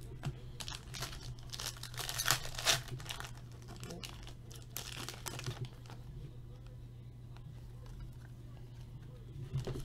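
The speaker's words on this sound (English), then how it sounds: "So I'm actually going to open up both packs." Foil wrappers on 2016 Panini Spectra football trading card packs crinkle and tear in dense bursts of rustling, close and loud at first, then softer handling against a steady low hum.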